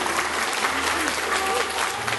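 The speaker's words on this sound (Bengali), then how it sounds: "ধরে একটা হাততালি দেবেন" Dense, steady applause from an audience after a Bengali drama performance staged by Bangiya Parishad Qatar, continuous and fairly loud for the whole stretch with faint voices underneath.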